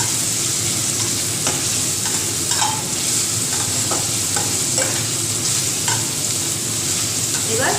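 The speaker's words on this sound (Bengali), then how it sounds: "এবার পেঁয়াজ আর রসুনটাকে ভালো করে ভেজে নিব" Onion and garlic fry in a pan for a rajma curry, giving a loud, steady sizzle close by. Repeated stirring scrapes break through the sizzle, and no one speaks.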